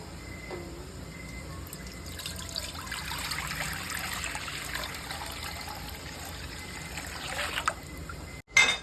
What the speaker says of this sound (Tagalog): lalagyan natin ng malinis na tubig.